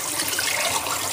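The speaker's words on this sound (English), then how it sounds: "you want to fill the same jars with really hot water, so that way they stay hot" Hot water runs from a kitchen tap into glass canning jars, a short, steady hiss of flowing water with no voices.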